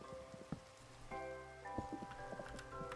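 Rain patters steadily in the video game Minecraft, a faint, continuous hiss of drops with scattered clicks layered over it.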